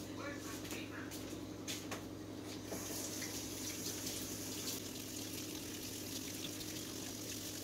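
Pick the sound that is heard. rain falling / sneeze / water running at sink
water running at sink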